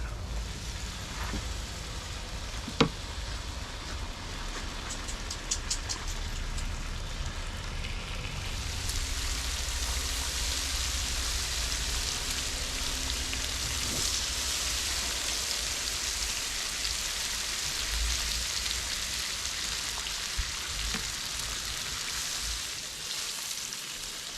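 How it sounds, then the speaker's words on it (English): Bacon frying in a pan for a breakfast burrito gives a steady, close hissing sizzle that grows louder and brighter after a few seconds, with a few light clinks early on and no speech. "let's get the bacon going"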